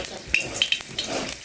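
Spices go into hot oil in a home kitchen pan and set off a short burst of crackling sizzle, with light clinks of a utensil against the pan.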